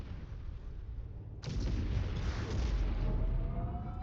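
Mech weapons fire and explosions in the MechWarrior 5 video game: a low rumble gives way to a sudden heavy blast that keeps booming and crackling loudly until the end, with no talk.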